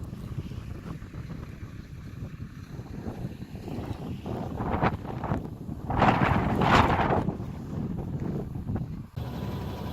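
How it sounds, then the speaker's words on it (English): Strong wind buffets the microphone in steep desert hills near the base of Mount Whitney, a continuous roaring gust that swells louder in the middle and then eases, with no voices over it. "It's extremely windy."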